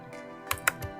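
Close keyboard typing: a few distinct, spaced key clicks on a computer keyboard, crisp and isolated against a faint background hum, with no speech.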